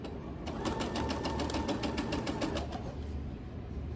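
A sewing machine stitches quilt rows together in one short, close, rapid burst of rhythmic whirring, then stops, leaving a low steady hum.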